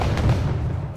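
Distant mortar shells landing in the Wargame: Red Dragon real-time strategy battle, a low rumbling boom that rolls and fades over about a second, with no voices over it.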